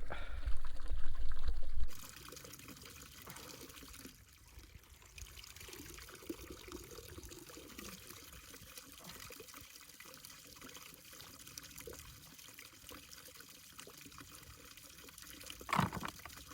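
Water is poured to refill a supply on a freezing winter wild camp on High Raise. A loud splash in the first two seconds gives way to a steady, quieter trickle and dribble, with a brief louder burst near the end.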